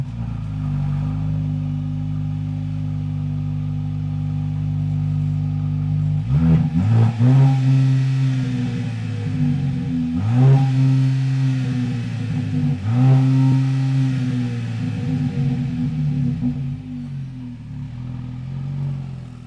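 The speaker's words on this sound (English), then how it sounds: "here we are driving the latest and not so greatest Mercedes SL, the SL43 AMG" Mercedes SL43 AMG, a rear-wheel-drive roadster, driving on the road: steady engine drone at first, then repeated rises in revs with gear changes around the middle and later, loud and close, with no talking.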